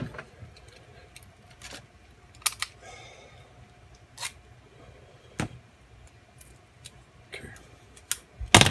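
Tape being peeled and tugged off a padlock key, heard as scattered sharp rips and crinkles at close range over a faint background hum, with irregular pauses between pulls.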